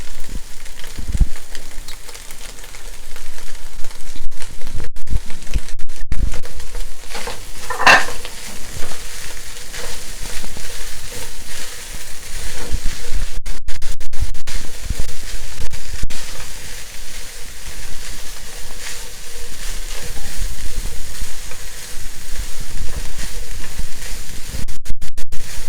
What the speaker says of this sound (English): So we give this a mix and we just heat it under medium heat.